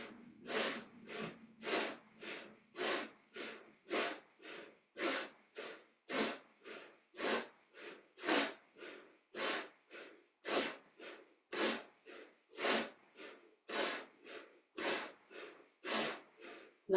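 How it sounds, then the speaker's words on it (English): Rapid, rhythmic breathing during a yoga exercise, with about two sharp, forceful nasal breaths per second repeating steadily and close to the microphone, each one a short airy burst with no talking. "You can hear that my breathing is becoming a bit faster."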